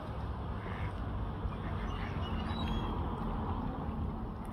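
Wild ducks and seagulls call over steady low rumble and water noise at a harbour, with faint scattered bird cries and no speech.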